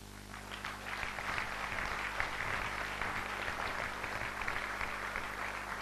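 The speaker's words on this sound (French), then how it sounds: "S'ils peuvent se lever, on va les applaudir." Audience applauding a group of children at a celebration for a reverend's seventieth birthday, dense continuous clapping from a crowd at moderate distance, steady throughout.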